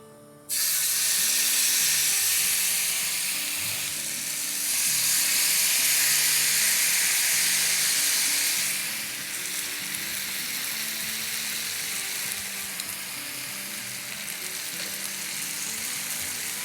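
Chicken breast and leg pieces fry on stovetop burners with a loud, continuous close sizzle and hiss that swells and eases slightly over time, with faint scraping underneath and no talking.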